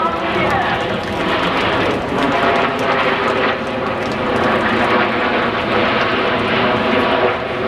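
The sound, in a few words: Avro Vulcan jet bomber flying over an air show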